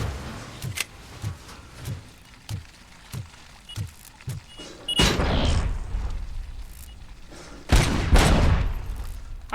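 A hacked turret in Robocop Rogue City fires at enemies with a rhythmic run of evenly spaced thumping shots, followed by two heavy booming bursts, loud and close with no talk.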